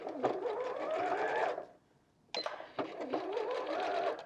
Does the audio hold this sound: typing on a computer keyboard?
no